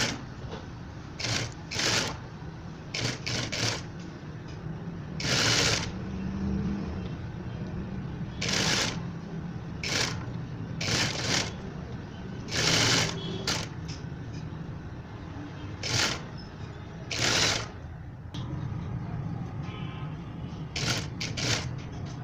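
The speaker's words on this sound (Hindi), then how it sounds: "उसके ऊपर एक सिलाई लगा देंगे" A sewing machine stitches piping around a shirt, its motor whirring steadily for over twenty seconds, broken by frequent short, sharp clicks and clacks from the mechanism, close by with no talking.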